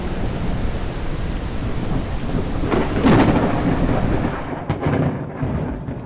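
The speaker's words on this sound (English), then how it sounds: "if I switch to rain or thunderstorm," Simulated thunderstorm with steady rain and a rumbling thunder swell, loud and continuous, in stage design software for USPSA shooting stages.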